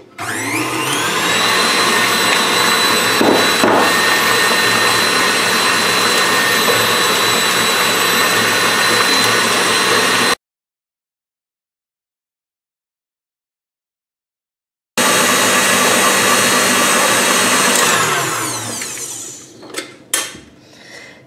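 A stand mixer runs at maximum speed, beating very soft butter into a cream. A loud, steady motor whine holds for about ten seconds, breaks off into silence, then starts again and winds down with a few clinks at the end.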